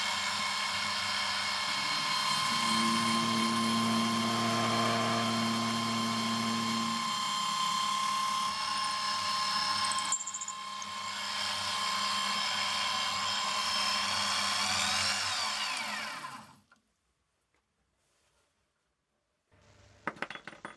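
A 12mm end mill on a milling machine widening a hole in a workpiece gives a loud, steady whine with a bright high ring, running for about fifteen seconds before cutting off into near silence.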